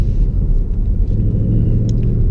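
A 2019 Ford Mustang Bullitt V8 rumbles steadily while driving, a loud, deep and continuous low engine drone heard up close with no talk over it.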